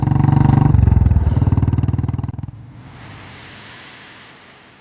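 A Royal Enfield Bullet motorcycle engine thumps close and loud with the brand's steady, heavy single-cylinder beat, then the beat fades away into a low hum.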